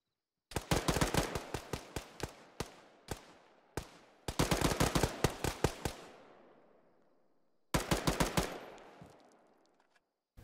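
Gunfire from ArmA 3 sounds in several bursts of rapid automatic shots with echoing tails, then a final burst after a short pause, loud and sharp with no talking.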